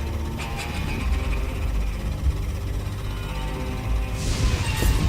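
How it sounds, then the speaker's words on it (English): Diesel generator driving a pump in the video game Deponia 2, a steady low mechanical hum and rumble with a faint hiss near the end, continuous and moderately loud. "It drives a pump that removes the leaking diesel from the water."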